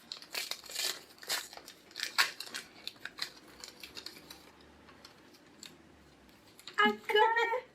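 Packaging tape being torn and cut off a parcel, with scraping, crinkling rips and snips in irregular bursts close by, ending in a louder crackling rustle.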